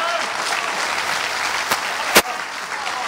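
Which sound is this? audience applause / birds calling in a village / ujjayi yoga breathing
audience applause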